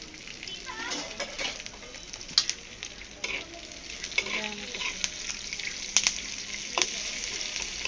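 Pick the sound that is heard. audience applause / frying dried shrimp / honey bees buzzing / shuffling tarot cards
frying dried shrimp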